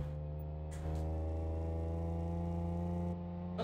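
A Honda NSX in Ktyu spec idles and cruises at low revs in the Shutoko Revival Project racing game, a steady droning hum with layered harmonics that swells slightly midway, continuous and fairly quiet with no talk.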